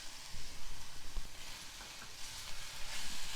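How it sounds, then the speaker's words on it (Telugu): Coriander with stems being stirred into softened tomato in a hot pan, a steady close sizzle with soft scraping stir strokes throughout, no voices. "దీన్ని ఒకసారి చక్కగా కలుపుకోవాలి"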